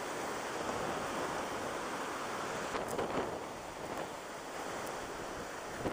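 Strong hurricane-force wind from Hurricane Irma roars steadily across open water during a bass fishing outing, mixed with the wash of waves and microphone buffeting, loud and continuous for the whole stretch with no talking.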